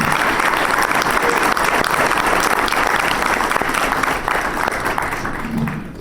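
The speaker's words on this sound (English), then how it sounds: "Let's all give our veterans a round of applause." A room full of people at a public forum applauding veterans, dense steady clapping that holds loud for several seconds before tapering slightly at the end.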